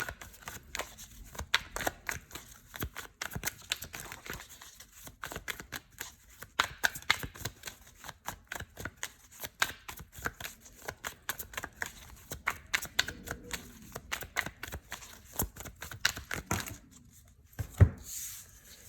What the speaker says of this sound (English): We're going to pull 8 cards.